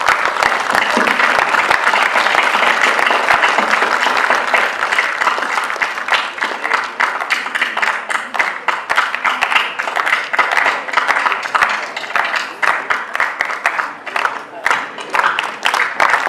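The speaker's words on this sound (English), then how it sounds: "Big applause for the winners, ladies and gentlemen." Sustained applause from an audience honouring award winners at a youth conclave, dense clapping that holds steady and loud throughout, thinning slightly toward the end.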